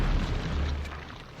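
A bomb flower explodes in Zelda: Wind Waker, a loud, rumbling low boom that fills the moment and slowly fades, with no talking.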